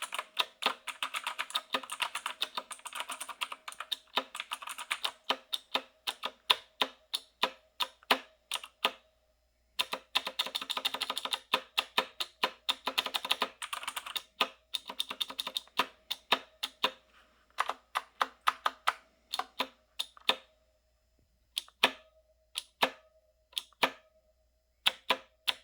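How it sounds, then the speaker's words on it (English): Typing on a Razer BlackWidow Elite mechanical keyboard: bursts of sharp, clacky keystrokes in quick runs, broken by short pauses, each stroke close and crisp, with no talking. "the space bar is just ridiculously loud, and when I just try to do any kind of work and just type normally, it's so distracting"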